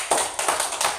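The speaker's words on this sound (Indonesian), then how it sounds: "Kita tepuk tangan dulu." An audience claps together at a daytime teacher-training session in Banjarmasin, Indonesia, in three or four quick rhythmic bursts, moderately loud.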